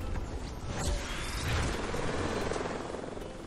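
Helicopter in the video game Fortnite, a rumbling, whirring rotor drone with mechanical creaks and clatter, steady and fairly close for several seconds.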